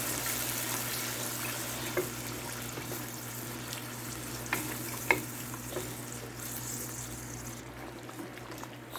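Tomato sauce fries with onions in a pot, a steady low sizzle and bubbling broken by a few light stirring clinks, close and moderately quiet throughout.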